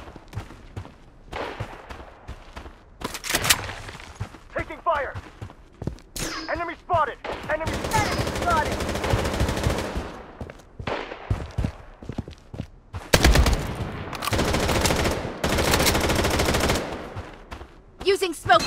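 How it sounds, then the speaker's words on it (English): AK47 gunfire in the video game Blood Strike, with loud bursts of automatic fire and scattered single shots among explosions and footsteps while a voice calls out over the action. "Taking fire!"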